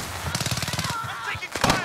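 Rapid automatic gunfire from Call of Duty Modern Warfare multiplayer, a close burst of evenly spaced shots followed by a couple of louder single blasts.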